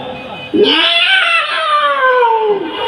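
A voice imitates cats fighting during a live comedy performance at the Central Shaheed Minar in Jamalpur, a drawn-out wavering yowl that rises sharply and then slowly slides down, loud and close.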